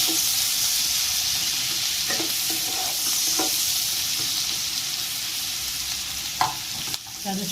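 Chopped onions frying in a pan with oil, bay leaf and spices: a steady, even sizzle throughout with a few soft stirring clinks and scrapes, no talking.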